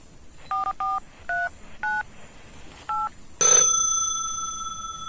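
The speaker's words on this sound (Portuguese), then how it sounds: "Vou começar a ligar para ele." A telephone number dialed on a keypad: six short, evenly spaced touch-tone beeps, then a loud ringing bell that decays slowly, close and clear with no talking.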